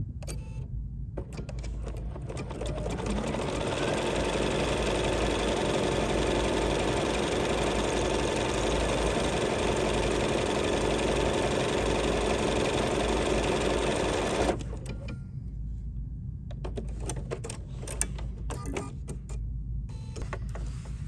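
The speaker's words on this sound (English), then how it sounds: "now I lower my presser foot, and now we're simply going to stitch again" Bernina B 790 PRO sewing machine stitching buttonholes in garment fabric, a fast, steady, close mechanical whir that runs alone for about twelve seconds and then stops, leaving quiet clicks and handling noises.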